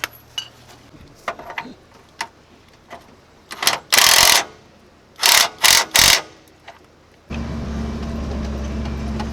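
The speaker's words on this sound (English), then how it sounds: "checked some suspension bolts and they were loose, so got the rattle gun out, we'll give her a quick tighten up" A rattle gun tightening loose suspension bolts on a Barra FJ45 Land Cruiser, several loud bursts of impact hammering at close range, then a steady idling engine rumble to the end.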